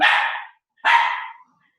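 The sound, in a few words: dog barking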